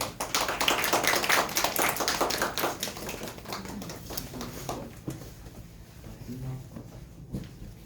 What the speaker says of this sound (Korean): 나오실 때 우리 감사의 박수 한번 하겠습니다